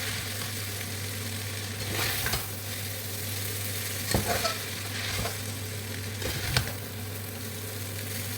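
Indomie noodles are stirred in a frying pan, a close sizzle running throughout with a few scraping clunks of the utensil against the pan and no talking.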